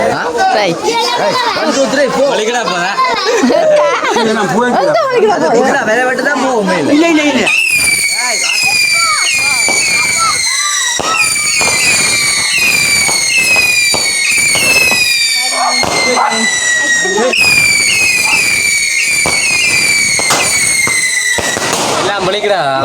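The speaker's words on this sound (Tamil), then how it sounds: "அங்கட அண்ணா வெடி கொளுத்த போகிறார்" Firecrackers explode at a temple festival, a dense, loud, continuous run of crackling bangs and sharp pops, joined by high whistling screeches, with a crowd chattering throughout.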